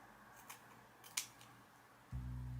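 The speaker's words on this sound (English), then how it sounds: "Then we're gonna just cut the lace off." Scissors snip the lace edge off a wig in two or three crisp, quiet cuts close by, followed by a sudden low hum at the end.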